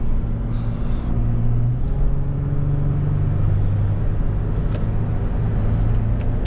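A 2019 Toyota 4Runner Limited Nightshade at about half throttle merging onto a highway gives a steady low engine drone and road rumble from inside the cabin, with a faint rising tone and a few light clicks.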